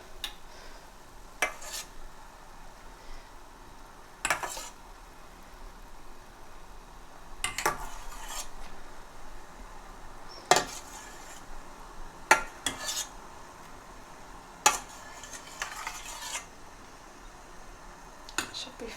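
A metal spoon scrapes and clinks against a pot while starch froth is skimmed off simmering lentils, with sharp intermittent taps scattered over a quiet background.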